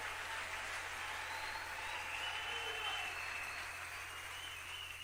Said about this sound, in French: Est-ce qu'on peut donner une belle acclamation?